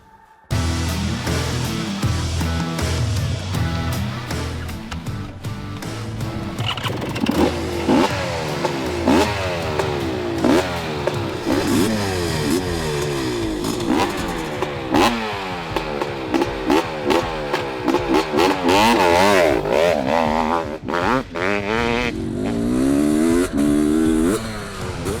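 A 500cc motorcycle starts and then revs and accelerates hard while riding. Its loud engine climbs and falls through repeated throttle sweeps and gear changes for the whole stretch.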